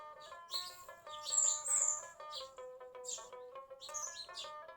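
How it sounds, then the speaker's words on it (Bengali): Native Giribaz pigeons are heard at close range alongside clear, repeated chirps and tweets over a steady tonal background hum, with no talking. "আমাদের সবগুলাই দেশি জাতের কবুতর, দেশি গিরিবাজ কবুতর বলে।"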